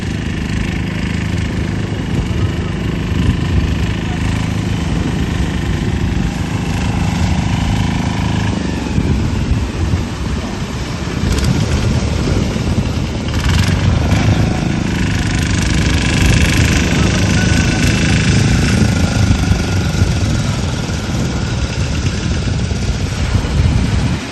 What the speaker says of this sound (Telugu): చూస్తున్నారు కదా బోట్స్ అన్ని కూడా ఒడ్డుకి ఒకేసారి చేరుకుంటున్నాయి మీరు చూస్తున్న ఈ బోటు ఇంజిన్